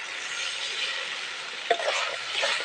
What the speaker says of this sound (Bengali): এবার এই মশলা ধোয়া জলটা দিয়ে দেবো